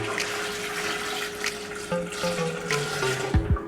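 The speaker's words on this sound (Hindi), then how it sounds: "इस बर्तन को हम आधे से ज़्यादा पानी से भर देते हैं" Water from a tap fills a cooking pot for mutton paya, a steady running pour whose pitch rises as the vessel fills, with no voices.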